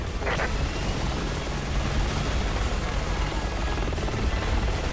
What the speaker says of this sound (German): Sie haben einen bewaffneten Heli ins Spiel gebracht.